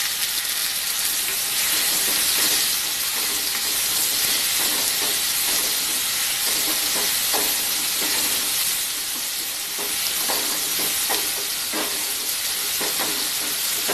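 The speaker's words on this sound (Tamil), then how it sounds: "தக்காளி நல்லா வதங்கட்டும்." Chopped ripe tomatoes fry in a pan for a Tamil garlic curry, giving a steady, close, broad sizzling hiss with faint crackles, continuous throughout with no talking.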